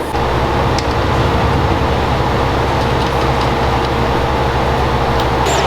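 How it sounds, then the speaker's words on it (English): A car engine with a knocking fault runs steadily, a loud continuous mechanical drone with a fast repetitive tapping texture underneath, no talk. "All sorts of knocking going on."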